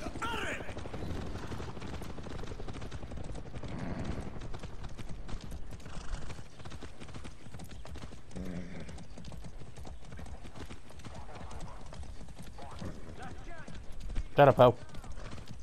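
Horse hooves clip-clopping at a steady trot in the video game Far Cry 6, continuous and close, with a neigh and a few gunshots near the end and someone speaking briefly over it.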